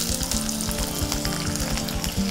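Onions and eggplant sizzle in hot oil in a pan for a Telugu-style eggplant curry, a steady close crackling fry with light stirring and no voices.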